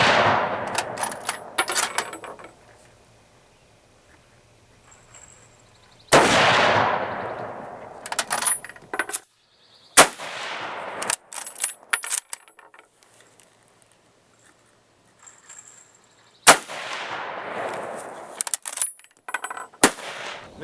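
Sharp rifle shots from an M1903A3 Springfield, a handful of loud single reports spaced several seconds apart, each followed by a decaying echo and metallic bolt-action clatter between shots, with no talking.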